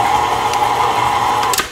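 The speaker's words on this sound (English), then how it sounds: "let this mix until everything is incorporated and it forms a sticky dough" A stand mixer runs steadily, kneading sticky pumpkin cinnamon bun dough with a constant motor whir and a light rhythmic knocking, with a brief clatter near the end.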